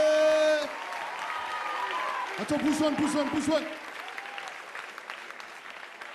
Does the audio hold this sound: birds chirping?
no